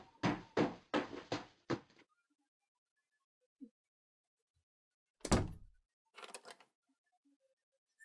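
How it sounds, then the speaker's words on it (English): Door being locked and banged on in a video game: a quick run of five heavy knocks, then silence broken by a single tap, a loud thump and a rattling bang, close and dry with no voices. "I hear my father yelling as he continues banging on my door for a while."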